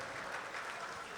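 Audience applause at a 2015 Urdu mushaira poetry gathering in Doha, Qatar: a dense, even wash of clapping that holds steady and fairly soft throughout.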